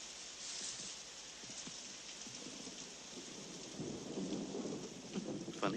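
Steady rain falls in a 1978 animated film set among rabbit burrows, with soft distant thunder rumbling and swelling toward the end; no one talks.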